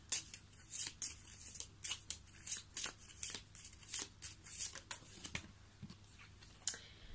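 Tarot cards shuffled and drawn by hand, a quick series of crisp, close riffling slaps and flicks in uneven bursts, fairly quiet and alone.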